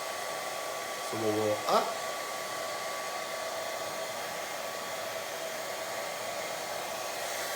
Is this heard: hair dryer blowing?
yes